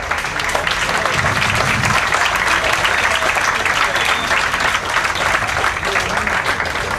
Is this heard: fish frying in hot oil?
no